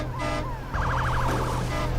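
A warbling, unpleasant-sounding horn signal from an ice cream truck driving up behind a car, with wavering electronic tones over a steady engine hum, loud and close, in short repeated bursts.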